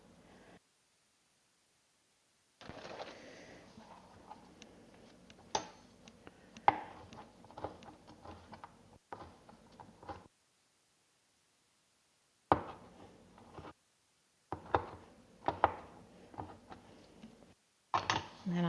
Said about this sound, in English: I want to chop up my bacon